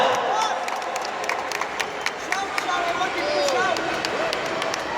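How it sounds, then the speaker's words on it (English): A crowd at an ICC cricket event claps in scattered, sustained applause for a few seconds, with a lively murmur of voices and chatter mixed throughout. "Come on, clap for that."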